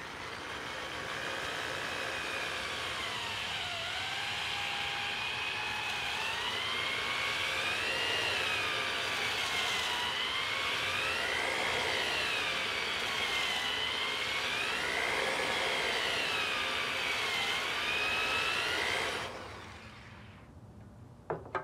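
A cylinder hone spun by a drill works inside an oiled engine cylinder during a garage engine build, giving a steady loud whine with wavering pitch for about nineteen seconds before it stops, followed by brief clicks.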